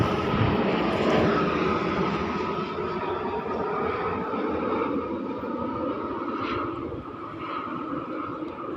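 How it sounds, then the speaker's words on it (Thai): An airplane passes overhead near an airport by Bang Fang canal, a broad steady engine roar that swells early and slowly fades, with no talking. "นู่นเครื่องบิน"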